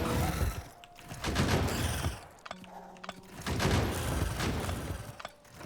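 An anti-material rifle fires in Factorio, with repeated bursts of heavy gunfire and impacts in clustered volleys separated by short lulls, loud and close.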